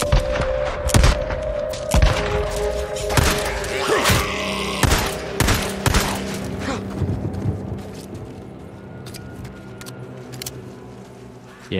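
Gunfire in the Days Gone video game on PC at Tucker's Camp: repeated loud, sharp shots in irregular bursts with booming impacts, thinning out toward the end over a low background hum.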